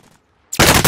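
Quiet at first, then a sudden loud burst of automatic gunfire in Call of Duty: Modern Warfare, close and harsh, continuing to the end.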